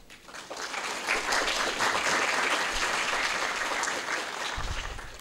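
An audience at a business leadership talk breaks into sustained applause, swelling quickly to a full, even roar of clapping that holds for several seconds before easing slightly.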